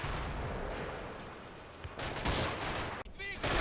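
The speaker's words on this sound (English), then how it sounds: "They are immediately met by suppressive fire from the Ukrainian army." Suppressive gunfire from the Ukrainian army in the war game Combat Mission: Black Sea, a continuous rattling fusillade with sharper bursts of automatic fire later and a brief whining tone near the end.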